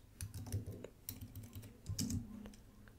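Typing on a computer keyboard, short bursts of close, crisp key clicks with brief gaps between them, heard alone without talk.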